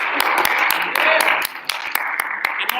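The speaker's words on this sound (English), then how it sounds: "Claps for Lauren." Applause from a small group clapping for Lauren during a live-streamed class session, steady scattered claps through the whole stretch, with a brief dip partway before picking back up.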